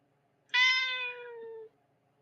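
A domestic cat gives one drawn-out meow, close and clear. It starts bright and slowly falls in pitch over about a second, then stops, with near silence before and after.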